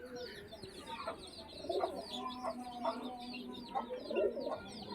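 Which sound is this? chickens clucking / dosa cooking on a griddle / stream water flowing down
chickens clucking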